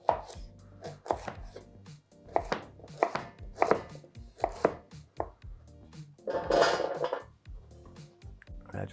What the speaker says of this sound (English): Chop them in half and a quarter.